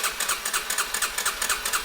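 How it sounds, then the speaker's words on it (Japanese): A Yamaha Serow 250 engine with 100,000 km, freshly overhauled and with the oil filter off, churns on its starter motor in a steady, rapid rhythm of even pulses, loud and close throughout with no voices. "セルを回してオイルフィルターの穴からオイルが出てくることを確認します。"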